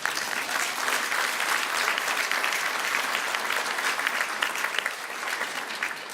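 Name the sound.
graduation audience applause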